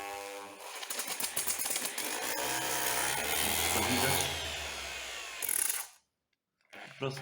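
A Parkside power tool set to speed three spins up and runs with a loud, steady whirring buzz, then cuts off abruptly into silence before a brief clatter; someone speaks briefly.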